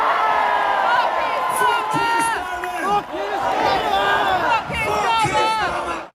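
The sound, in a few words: Glastonbury festival crowd chanting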